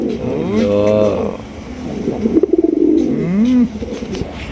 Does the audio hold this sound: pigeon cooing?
yes